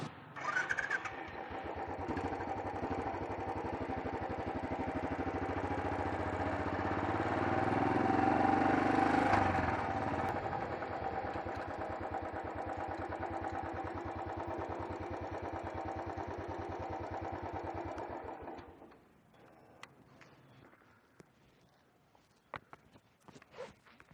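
A Royal Enfield Bullet Trials 500 motorcycle engine runs steadily at close range with a deep, throbbing single-cylinder rhythm, swelling briefly midway before cutting off near the end, leaving faint clicks and quiet.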